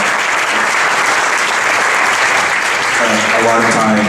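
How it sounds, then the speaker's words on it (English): Audience applause for a group of event volunteers at a Silicon Valley mobile tech meetup, steady dense clapping filling the room for the whole stretch, with a voice starting to speak over it near the end. "But now I'd like to give you guys a round of applause for these guys"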